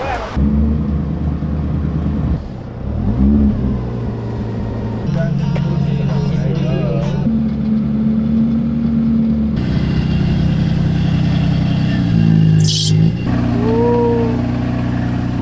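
A drift car's engine starts up and revs in the pits, a deep idling rumble stepping up and down in pitch with bursts of throttle, while people talk nearby over it.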